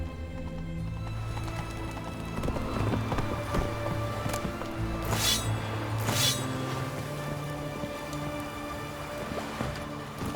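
A horse in The Witcher 3 video game gallops with steady clip-clopping hooves amid rainfall, while brief bursts of noise rise over the continuous game ambience.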